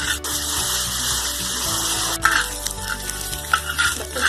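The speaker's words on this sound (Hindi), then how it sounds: "अब इसमें हम डालेंगे प्याज। थोड़ी देर के लिए प्याज को हम फ्राई कर लेंगे।" Chopped onions fry on a hot pan for dhaba-style tawa kaleji, a steady loud sizzle with occasional stirring scrapes and pops.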